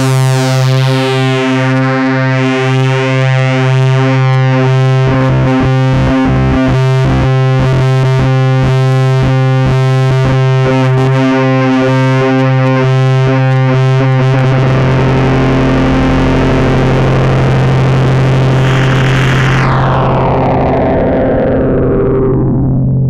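An Arturia MiniBrute synthesizer with its brute factor raised, run through a guitar pedal, plays a loud sustained distorted buzzing tone with rapid pulsing rhythm that shifts to a smoother drone and then sweeps and fades out.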